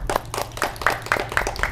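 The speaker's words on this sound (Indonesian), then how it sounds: "tepuk tangan teman-teman." Applause from an audience at a university organization event, a dense run of rapid claps that goes on steadily for the whole moment, fairly loud and close over a low background hum.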